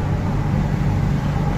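A car being driven gives off a steady low engine and road rumble from inside the cabin, continuous and fairly loud, with no speech.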